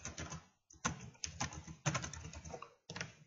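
Keys clatter on a computer keyboard in short, uneven bursts of typing, close and fairly quiet, with brief pauses between runs of keystrokes.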